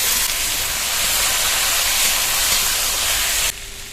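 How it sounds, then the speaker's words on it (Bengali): Potatoes dropped into hot spiced oil in a pan set off a loud, close, continuous sizzle that stops abruptly near the end. "এবার এর মধ্যে আলুগুলো দিয়ে দেবো।"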